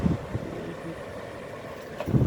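A salvaged household air conditioner fan motor spins steadily, blowing a strong, even rush of air at moderate volume with faint knocks at the start and end.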